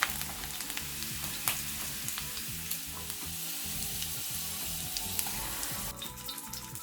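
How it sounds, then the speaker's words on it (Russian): Cabbage rolls brown on both sides in a frying pan, a quiet, even sizzle that crackles and pops softly and continuously with no voices. "Вслед за картофелем обжариваем голубцы с двух сторон"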